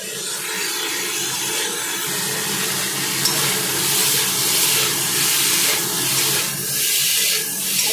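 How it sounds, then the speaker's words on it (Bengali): Potatoes frying in a pan, a loud continuous hiss and sizzle that holds steady throughout with slight surges in intensity. "আর আলু ভেজে নিচ্ছি"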